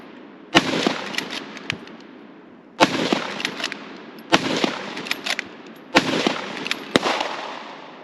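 Four loud, sharp rifle shots from a Faux Jungle Carbine, a homemade hybrid rifle, fired at a quick, uneven pace, each crack trailing into a ringing echo with a short gap between shots.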